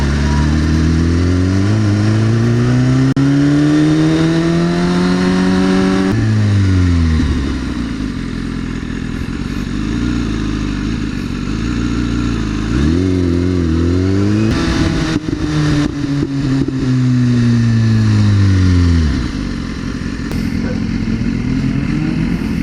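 Engine of a Lamborghini in a game, loud revving that sweeps up and down repeatedly in long rising and falling pitches, close and dominant, with a brief clattering burst midway.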